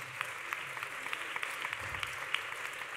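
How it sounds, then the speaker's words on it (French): Applause from the audience at a magazine's men-of-the-year awards ceremony, an even, fairly quiet patter of clapping hands heard from a distance, with a few sharper claps. "vous pouvez les applaudir"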